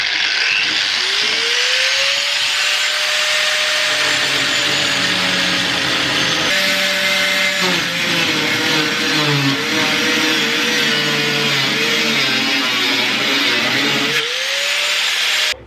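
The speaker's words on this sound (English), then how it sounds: "I've got my grinder. What I'm going to do is I'm just going to chop a square section out from here to here." An angle grinder cutting a square section out of a truck bed runs loud and continuous, a high whine holding steady with pitch dips as the disc bites the metal, then rising again at the end.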